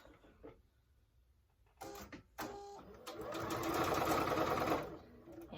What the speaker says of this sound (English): So I'm going to go ahead and sew this strip